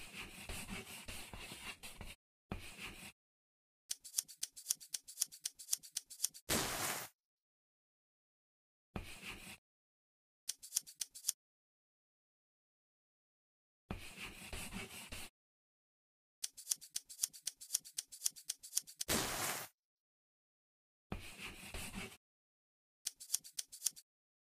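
Cartoon scissors cutting fabric in a sewing and dress-up game: bursts of quick snipping and rubbing strokes separated by silent gaps, each snip series crisp and close.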